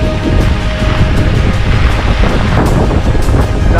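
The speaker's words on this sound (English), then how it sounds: "Yep, that's a typhoon." Loud, steady roar of Super Typhoon Yagi's wind buffeting the microphone in Hanoi, Vietnam, with a constant rush of heavy rain, no voices.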